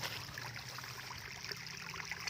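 Water flows through a rice paddy as a faint, steady trickle and babble, continuous and fairly close with no voices.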